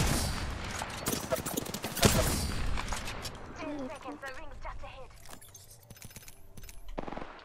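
Enemies fire guns in the video game Apex Legends, with bursts of rapid gunfire and scattered shots crackling loudly in the first half and then thinning, while a voice talks and game effects chirp over the action.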